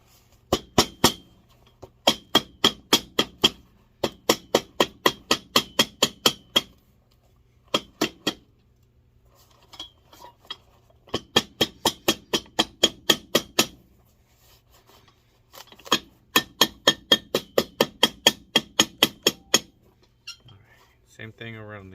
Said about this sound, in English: hammer it into place.